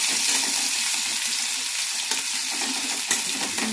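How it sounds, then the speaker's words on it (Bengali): Sliced onions frying lightly in a pan for a banana blossom dish, a steady close sizzle with occasional faint clinks, no talking. "পেঁয়াজটা একটু হালকা করে ভেজে নেব।"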